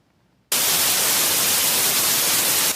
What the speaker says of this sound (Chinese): 这是咱正熟悉的白噪音，